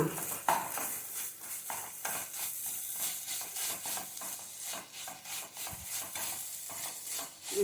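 A betel leaf and coconut mixture for laddu is stirred and scraped in a pan, giving a steady, rhythmic rasp with soft knocks throughout, close and moderately quiet, with no talking.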